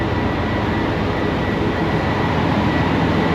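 Interior of a train running on the Okhotsk line in Hokkaido, a steady, close rumble of wheels and motion that holds even and unbroken throughout, with no voices.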